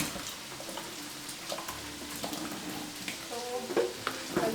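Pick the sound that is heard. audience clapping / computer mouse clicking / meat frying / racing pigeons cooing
meat frying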